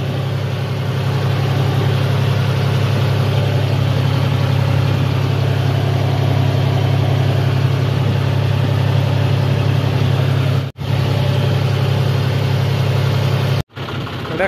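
A John Deere tractor engine runs steadily in a farm field with a loud, constant low throbbing hum that stays even throughout, broken by two sharp momentary cutouts near the end, with no voices.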